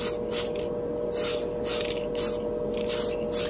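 Tamiya TS100 light gunmetal spray can hissing steadily in a continuous close burst, with slight pulsing and no speech.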